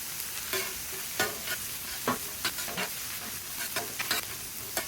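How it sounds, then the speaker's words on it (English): Vegetables and rice frying on a hibachi griddle with garlic butter, a steady sizzle broken by repeated sharp scrapes and clacks of a spatula stirring and tossing, close and moderately loud with no voices. "we'll toss all of our veggies right on top of that"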